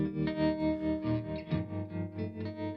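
Electric guitar chords ring out with a wet, spacious reverb tail, a short strummed phrase played through a reverb pedal switched via a Gigrig Quartermaster 6 switcher.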